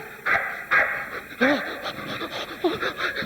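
A dog pants quickly and breathily close by, with a few soft whimpers mixed in, while a voice talks over it.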